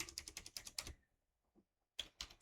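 Rapid clattering keystrokes on a computer keyboard come in two short bursts separated by a quiet pause, close and crisp.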